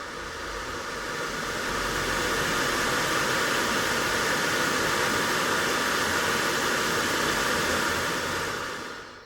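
A Vaillant combi boiler fan motor, an EBMpapst RLA97, spins up to speed on its own, a steady airy whoosh and hum that swells over the first seconds, holds loud and even, then tapers off at the end.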